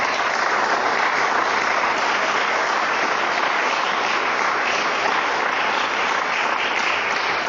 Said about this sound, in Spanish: Y le dan un fuerte aplauso al Señor.